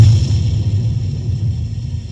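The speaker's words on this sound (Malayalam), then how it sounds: "മഴയും കാറ്റും ഇടിയും വന്നു." Low thunder rumble used as a sound effect in a school skit about a storm of rain and wind, a steady deep roll lasting throughout without any voices.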